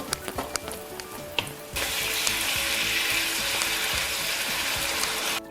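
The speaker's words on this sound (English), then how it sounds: "Toss the beans and let it cook for a couple of minutes" Szechuan-style green beans with sauce stir-fry in a pan: clattering tosses and scrapes at first, then a loud, steady close sizzle fills the rest, with no talking.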